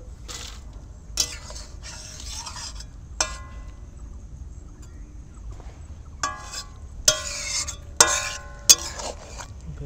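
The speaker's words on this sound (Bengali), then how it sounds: "এবার দিয়ে দেবো বেগুনগুলো।" Eggplant pieces stirred in a pan with poppy seed and mustard, heard as scattered utensil scrapes and clinks against the pan over a faint low sizzle, close, with the strokes bunching up toward the end and no voices.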